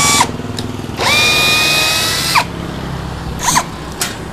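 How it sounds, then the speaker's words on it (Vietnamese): Loud, close whirring from a cordless drill biting into hard wood: a brief spin-up, a sustained whine of over a second that winds down, then a couple of short quick bursts. No one talks. "bây giờ Minh Châu sẽ khoan thử để mọi người tham khảo này"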